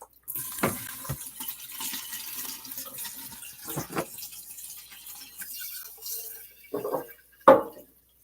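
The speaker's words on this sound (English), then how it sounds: "I just fill them half full with filtered water" Filtered water pours into containers at a sink, with splashing bursts and a trickle that start and stop over several seconds, close by and moderately loud, no one speaking.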